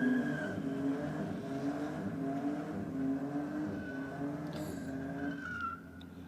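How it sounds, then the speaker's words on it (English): A Ford Falcon ute does a burnout at a drag racing strip, its engine holding a steady high roar with a whining tire squeal running continuously at close range for several seconds. "It seems like the burnout party started earlier than normal. Falcon's very enthusiastic."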